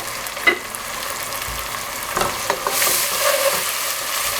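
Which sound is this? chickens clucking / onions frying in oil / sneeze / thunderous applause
onions frying in oil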